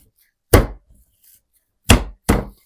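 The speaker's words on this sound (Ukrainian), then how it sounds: "Все ретельно перемішуємо та добре відбиваємо фарш" Seasoned minced meat for homemade burger patties slapped down hard, three loud close thuds with quiet gaps between them.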